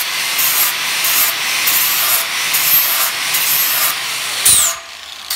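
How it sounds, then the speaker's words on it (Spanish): Welds smoothed on metal hairpin table legs with a power sanding tool: a loud, steady abrasive grinding rasp up close, pulsing slightly, ending with a short whine as the tool lifts off, with no talk. "Vamos repasando la soldadura de la mejor manera posible"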